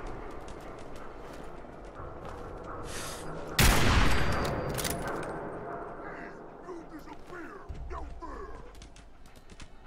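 Explosions and gunfire in the Fallout 4 video game: scattered shots and impacts, then a loud blast that swells and slowly fades, with more sporadic firing after it and someone talking faintly underneath.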